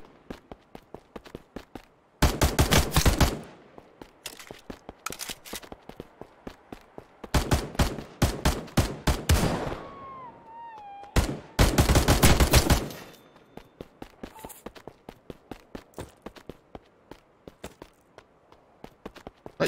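Rapid bursts of gunfire from a handy gun in the survival video game Passed Out, loud clustered volleys separated by pauses, with quieter scattered shots and footsteps between bursts.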